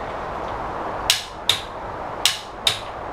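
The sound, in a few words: torque wrench tightening lug nuts on Lexus ES 350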